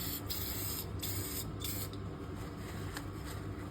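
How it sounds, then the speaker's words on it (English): Close, continuous hissing spray of parts cleaner aimed into a part from a Can-Am 1000 engine, steady for several seconds with faint breaks in the hiss. "Grab a little parts cleaner and a rag."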